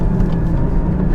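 Porsche Cayman GT4 engine and exhaust with the exhaust valve open, a loud steady low rumble heard from inside the car on a canyon drive, continuous and even with no talking.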